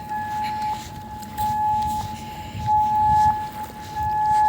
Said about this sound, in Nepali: मिसाइलको साइरन बज्न थाल्यो